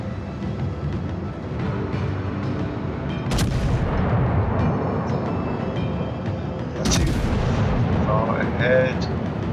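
Heavy naval gunfire in World of Warships, with two loud booming salvos that crack out over a constant rumbling battle din, a voice briefly heard near the end.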